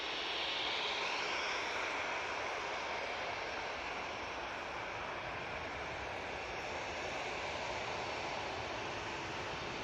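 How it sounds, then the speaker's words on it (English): Ryanair Boeing 737-800 jet taking off, a steady, loud broadband engine roar that holds for the whole stretch with little change, no voices over it. "that Ryanair 737-800 is back off to Dublin"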